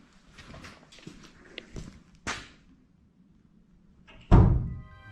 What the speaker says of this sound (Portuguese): Ele escuta passos e aí a porta que tá lá no fundo fecha.